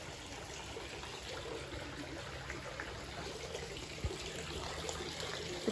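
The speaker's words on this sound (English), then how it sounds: "Oh yes, more running water." Steady running water trickling and flowing in a garden, a continuous broadband wash at a moderate level with a couple of small splashes near the end.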